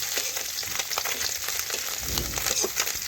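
Small fish crisping in hot oil for a vegetable curry with ridge gourd, pointed gourd and potato, giving a steady close sizzle with scattered crackles and a few soft stirring knocks.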